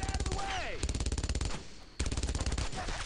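Rapid bursts of machine gun fire in the World War II shooter Brothers in Arms: Road to Hill 30, loud and close, two long rattling volleys separated by a short pause, with faint voices in the background.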